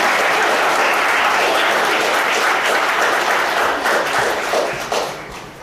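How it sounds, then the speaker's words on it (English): Loud, dense audience applause at a stage comedy hypnosis show, continuous clapping from a large crowd holding steady before tapering slightly toward the end. "Give them a round of applause."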